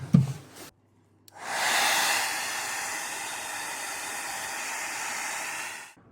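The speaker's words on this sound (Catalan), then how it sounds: "fins i tot el casc que estava moll, ho he fet amb el secador" A hair dryer blows on wet clothes and a motorcycle helmet in a hotel room, starting after a brief rustle and running as a loud, steady close-up rushing hiss for several seconds before cutting off.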